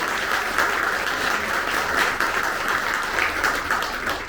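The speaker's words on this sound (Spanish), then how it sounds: "Fuertes aplausos al Señor Jesús." Loud, sustained applause from a church congregation at a Catholic retreat, dense clapping that fills the space steadily from start to finish.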